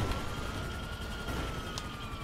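Police car sirens wailing in a casino heist video game, a steady electronic tone that holds for a couple of seconds at moderate loudness with no talk over it.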